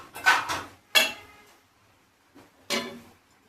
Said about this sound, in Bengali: এখন ঢাকনা দিয়ে ঢেকে রাখবো